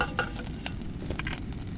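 Food stir-fried in a seasoned wok outdoors, a continuous loud sizzle with sharp scraping and clinking strokes from the utensil as the food is kept moving.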